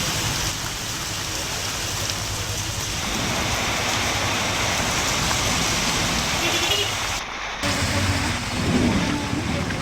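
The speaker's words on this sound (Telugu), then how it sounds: "బెల్లంపల్లి పట్టణంలోనూ వర్షం పడింది" Steady rain pours down over Bellampalli town in Mancherial district, a continuous hiss of drops on surfaces, moderately loud, with a brief dip partway through.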